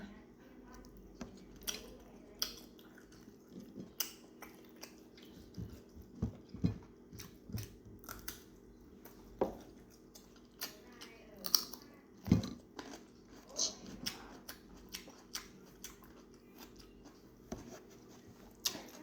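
Close chewing while eating meatballs dipped in chili sauce, with irregular soft wet bites and crunches spread across a quiet room, plus a few louder clicks and handling knocks.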